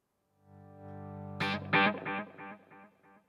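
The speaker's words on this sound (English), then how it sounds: "as I bring the heel down, the delay and reverb still trail off" A distorted electric guitar chord rings out through a Headrush pedalboard, then a hard strike repeats as delay echoes, each quieter than the last, trailing off with reverb into silence.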